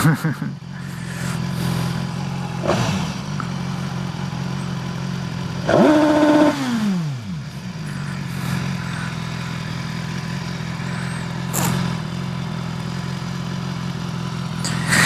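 A 2016 BMW S1000XR motorcycle engine on the move gives a steady low drone throughout, with a louder sweeping pass of another vehicle midway.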